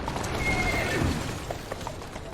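A horse in Assassin's Creed Syndicate gives a long whinny followed by scattered clip-clop hoofbeats on a street, close and clear over low ambient noise, with no one speaking.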